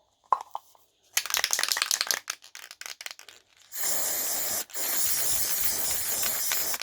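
Spray glue hisses from an aerosol can into a box while making a rustic wedding card, in one short burst followed by a long, steady, close spray with a brief pause partway through, preceded by some rustling.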